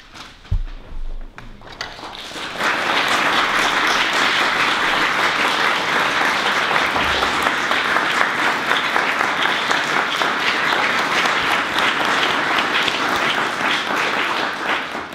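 Recital audience bursting into applause to welcome a performer, a few scattered claps and small knocks at first, then sustained, dense clapping from a full room lasting over twelve seconds.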